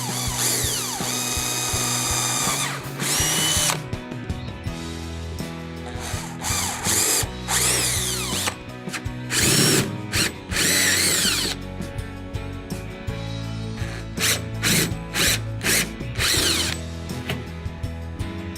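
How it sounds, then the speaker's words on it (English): A power drill bores holes into a 2019 Hobie Mirage Outback kayak while an anchor trolley kit is installed, a 3/16 pilot hole then enlarged with a 3/8 bit; loud bursts of whirring and grinding start and stop repeatedly with short pauses, no talking. "3/16 hole first, and then follow it up and enlarge the hole with a 3/8 bit."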